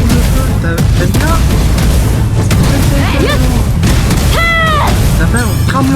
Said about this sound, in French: J'aime bien les coups de feu.